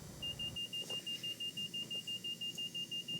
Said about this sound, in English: Cancel the alarm.